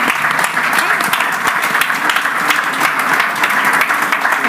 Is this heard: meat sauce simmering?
no